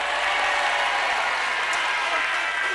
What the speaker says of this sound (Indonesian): Tepuk tangan untuk Citra